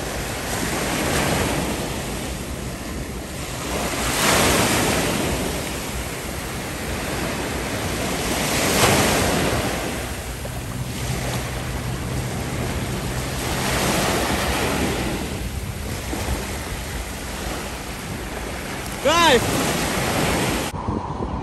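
Sea waves break on the sandy shore at Feodosia, rolling surges rising and falling every few seconds under steady wind noise on the microphone, with no talking.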